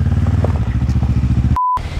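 Bristol Bobber 700 motorcycle with an EFI engine running at a steady idle, a loud, rapid, even low pulse lasting under two seconds before a brief tone interrupts it.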